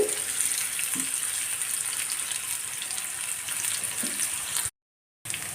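Mutton frying for Sri Lankan sambal gives a steady, faint hiss and crackle of hot oil that runs continuously, with a couple of soft stirring knocks and a brief drop-out near the end.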